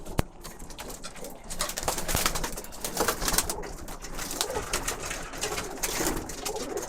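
Several Birmingham Roller pigeons coo in a loft in snowy weather, with soft repeated coos and rustling close by under a dense, busy background.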